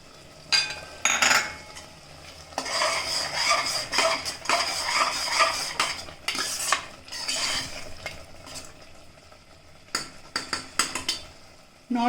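A spoon scraping and clinking in a pan as traditional-style tomato chutney with methi is dished out, a run of close metallic scrapes and taps with brief pauses, no talking.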